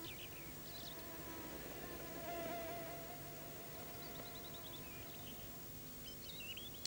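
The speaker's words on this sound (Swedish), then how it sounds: "Det finns så mycket myggor i granskogen." Mosquitoes whine and buzz faintly in a damp spruce forest, a quiet, continuous insect drone with occasional distant bird chirps.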